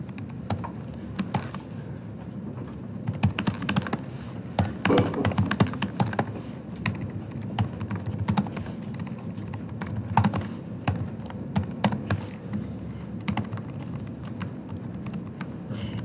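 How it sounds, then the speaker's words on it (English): Fast, continuous typing on a computer keyboard while coding, with dense irregular key clicks and occasional heavier keystrokes, close and moderately quiet, and no voices. "You don't have to keep up with my typing"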